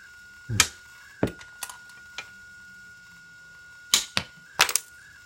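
Wire cutters trimming a Yagi antenna element, a handful of sharp, close snapping clicks in two small clusters with quiet gaps between.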